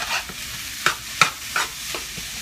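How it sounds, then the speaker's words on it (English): A utensil stirs fried rice in a pot with seasoning, giving a series of about six scraping strokes at a loose steady rhythm, close and clear over a faint sizzle. "put everything in one pot, and then go ahead and just stir it around"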